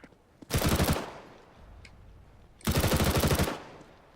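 Automatic gunfire in the game Counter-Strike: Global Offensive comes as two loud, rapid bursts of shots, each about half a second to a second long, separated by a quieter gap.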